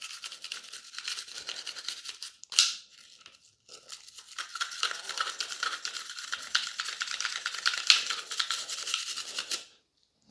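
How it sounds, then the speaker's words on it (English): Steel brush scrubbing inside the magazine well of a Glock 22 Gen 3 pistol, close and dry rapid bristle scraping in short strokes with a brief pause, then continued brushing, with no talk. "and our steel brush, and we're going to start brushing along here."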